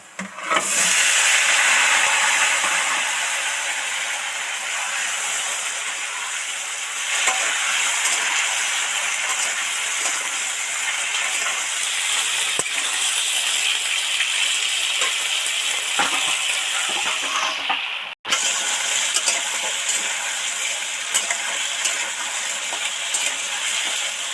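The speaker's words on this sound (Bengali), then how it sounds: "সবজিগুলো ততক্ষণ ভাজা হতে থাক" Loud, continuous hiss of chopped vegetables deep-frying in hot oil for shukto, close up, with a brief break near the end before the sizzling resumes.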